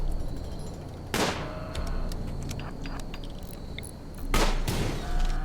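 Gunfire in the colony game RimWorld: two sharp loud shots about three seconds apart, each followed by a short crackling tail, over a steady low background of game ambience.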